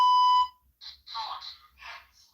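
One steady electronic beep from a ghost-hunting EMF phone app, loud and brief, followed by quieter breathy sounds and faint murmurs in a silent room.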